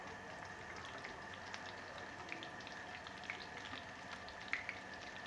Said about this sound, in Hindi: माशाल्लाह से कितनी अच्छी फ्राई हो रही है ये मेरी